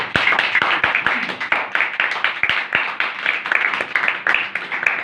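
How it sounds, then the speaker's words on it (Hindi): Congregation applauding at a Hindi-language church service, a room of hands clapping in quick rhythmic bursts with sharp individual claps standing out close by. "मसीह के लिए एक बार जोरदार तालियां।"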